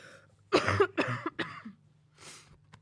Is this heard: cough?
yes